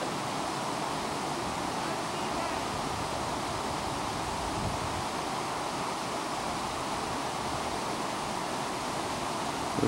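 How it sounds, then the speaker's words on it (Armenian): Water flows steadily near a roadside spot among trees, a constant broadband rushing with no breaks, close and even throughout. "Այս մեկ ջրի ձայն։"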